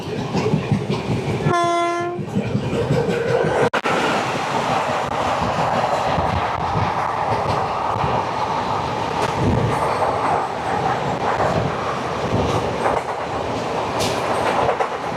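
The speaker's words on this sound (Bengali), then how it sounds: "একটা ডাব্লিউজি নাইনের কত পাওয়ার কতগুলো জেসিবি ভর্তি ওয়াগানকে টেনে নিয়ে যাচ্ছে" A heavy freight train hauled by a WAG-9 electric locomotive, its wagons loaded with JCB excavators, rumbles steadily past with a continuous rolling roar, and a loud horn sounds briefly near the start.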